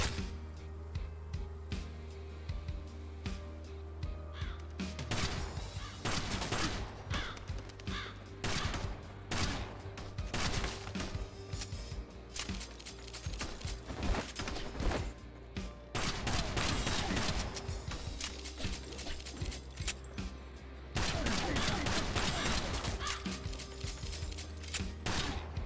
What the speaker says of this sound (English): I keep walking straight into the bullets.